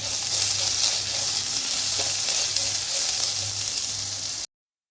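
Dragon chicken with capsicum, salt and chili flakes frying and being mixed in a pan: a loud, continuous close sizzle over a low hum that cuts off abruptly near the end.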